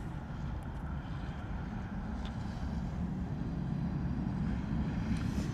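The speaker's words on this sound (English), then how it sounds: "Next arrival is an A320 Neo coming in from Jersey" An easyJet Airbus A320neo arriving at misty London Luton Airport from Jersey, a steady low engine rumble of moderate loudness that holds evenly throughout, without speech.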